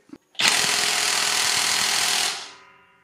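Cordless impact wrench running on a Makita battery in unscrewing mode, a steady loud hammering buzz that starts abruptly after a short click, holds for about two seconds, then spins down.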